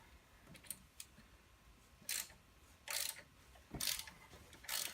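A ratchet wrench clicking in short bursts while loosening the three bolts holding a hub on an S10 truck during a solid axle swap, four quick ratcheting runs separated by pauses, quiet and close.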